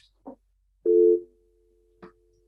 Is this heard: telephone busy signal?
yes